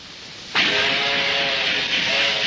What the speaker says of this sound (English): You're listening to an early steam locomotive.